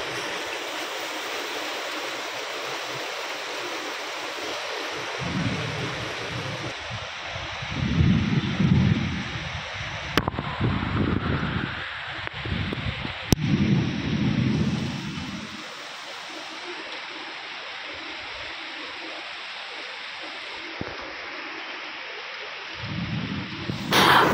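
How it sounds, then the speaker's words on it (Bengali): Heavy rain pours outside a balcony in a steady rushing hiss, while deep thunder rumbles roll in and swell through the middle before fading back to the rain alone, with a couple of sharp cracks. "বাইরে প্রচণ্ড বৃষ্টি পড়ছে"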